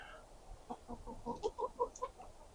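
Chickens clucking in a greenhouse or chicken run during winter, a series of soft, rhythmic clucks rising in a short rolling sequence at moderate distance over a quiet background, with no one speaking.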